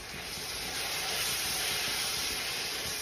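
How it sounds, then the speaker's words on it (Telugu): Ginger garlic paste with a handful of mint and coriander hits a hot pan for a vegetable paneer pulao, giving a loud, steady, continuous sizzling hiss with no talking. "జింజర్ గార్లిక్ పేస్ట్ ఒక టేబుల్ స్పూన్, ఒక హ్యాండ్ ఫుల్ ఆఫ్ పుదీనా అండ్ కొత్తిమీర వేసేసుకోండి."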